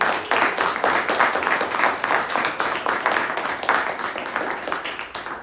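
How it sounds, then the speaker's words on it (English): An audience claps for the people who prepared a meal at a literary gathering, producing steady, dense applause that fills the room for several seconds without pause. "Can we give them a round of applause?"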